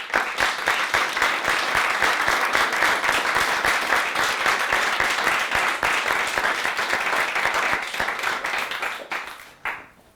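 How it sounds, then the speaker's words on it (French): An audience claps steadily in a dense, sustained applause for about nine seconds before it thins out and fades. "T'imagines que ces applaudissements, tu peux les avoir sur scène et tous les jours dans la vie?"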